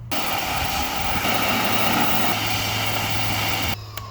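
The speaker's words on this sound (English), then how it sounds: "I obviously can't sand the inside of this tube, but I can just pressure wash it." A pressure washer sprays water inside a used bicycle frame tube, producing a loud, steady roaring hiss with a constant hum beneath it that cuts off abruptly near the end.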